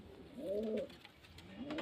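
Pigeons coo at a pigeon seller's loft in Beldanga, a couple of soft, rolling coos close by with a short pause between them and no talking.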